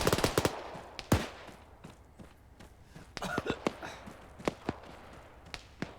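Video game combat with scattered sharp gunshots and thumps of grenade explosions, some close and loud, others fainter, in irregular bursts over a low background.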